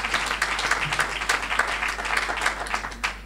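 An audience applauds at a French municipal public meeting held in Poussan in March 2020: a crowd's clapping comes in uneven bursts, fairly loud and close, with no speech over it.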